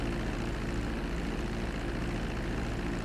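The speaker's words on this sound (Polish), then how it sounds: "Podążaj za samolotem." A propeller airplane engine drones steadily in GTA 5, a constant close, even roar with no change in level and no voices.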